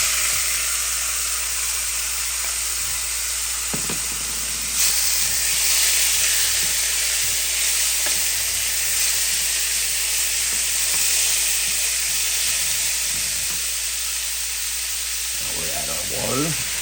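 Lamb frying in hot oil in a pan for rogan josh, a loud continuous sizzle and hiss with occasional stirring knocks, with some talk.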